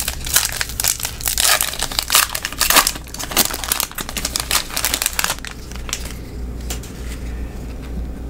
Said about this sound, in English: Today I'm opening a retail pack of 2024 Top Series 2